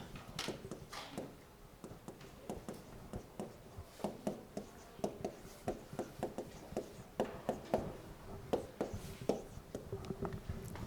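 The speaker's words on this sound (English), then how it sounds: "And then I'll write the second one underneath." Handwritten math equations being worked out, with a steady run of short scratchy pen or marker strokes, close and fairly quiet, continuing without pause and with no voice over them.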